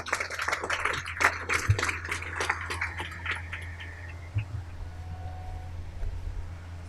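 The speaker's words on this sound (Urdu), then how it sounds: "تالیاں ذرا ان کے لیے بجائی بھی جائیں" An audience applauds to welcome parliamentary secretary Umar Aftab at a campus gathering, with scattered, uneven claps for several seconds that gradually thin out and fade into room murmur.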